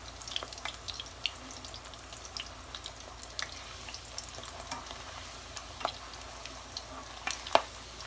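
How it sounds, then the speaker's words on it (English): Corn tortillas frying in hot oil give a soft, steady sizzle with faint crackles and occasional light pops and clicks, quiet and close with no talk. "My oil is hot. I'm gonna start adding my tortillas and I'm gonna be flipping them."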